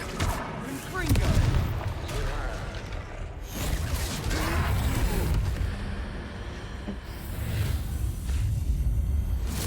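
Confringo fire spells blasting at a troll in the Hogwarts Legacy video game, several loud booming bursts with rumbling tails spread across the clip, mixed with game sound and voices talking.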